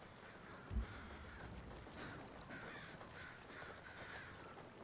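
A crowd of crows caws in the Ghost of Tsushima video game, with repeated harsh calls spread steadily over a faint, hissy outdoor ambience and one brief low thump near the start.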